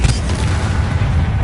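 An Incendio fire spell cast in a Harry Potter video game, a loud, dense rumbling whoosh of flame with a deep boom that holds steadily for a moment, with no talking.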